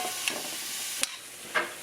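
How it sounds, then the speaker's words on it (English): Shrimp added to hot olive oil in a skillet, giving a steady close hiss of sizzling with a few brief sharper pops and spatters over about two seconds. "and now I'm going to add that shrimp."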